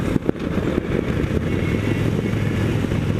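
A motorcycle engine revving through a downshift, a steady engine drone with brief blips, heard up close over wind noise.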